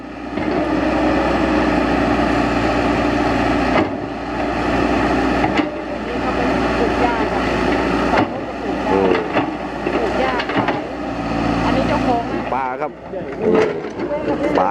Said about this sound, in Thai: เสียงเครื่องเนียมนิ่มกิ๊บเลยไม่มีควันเลย